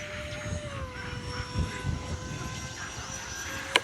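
An RC A-10 Thunderbolt II with twin 64mm electric ducted fans flies overhead, a steady whining jet hum with faint wind noise and a sharp click near the end.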